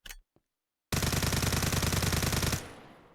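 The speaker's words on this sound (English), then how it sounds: "Yep, an automatic pistol." Rapid automatic fire from a CZ75 Auto 9x19 Parabellum pistol in Minecraft, a single dense burst of roughly twenty closely spaced shots lasting well over a second, loud and close, ending abruptly with a short tail.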